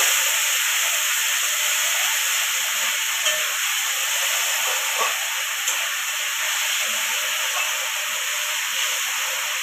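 Ginger, chilli and tomato spice paste sautéing in a pan, giving a continuous bright hiss and sizzle at an even level for the whole stretch, with faint background clatter and no voices.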